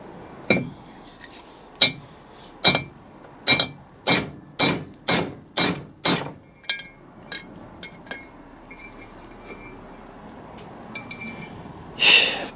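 Steel punch struck hard with a hammer while stripping down a Land Rover Defender TD5 LT230 transfer box: a run of loud, sharp metallic blows, quickening then slowing, then a few lighter taps and one last heavy strike.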